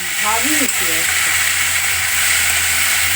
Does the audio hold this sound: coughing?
no